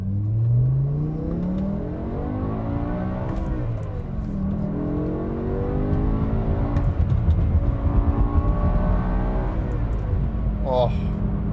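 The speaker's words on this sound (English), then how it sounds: "I've just forgotten how incredible this engine is." A BMW E60 M5 engine revs repeatedly, its pitch sweeping up and falling back several times in a row, heard from inside the car under continuous speech.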